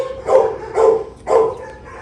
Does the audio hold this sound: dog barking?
yes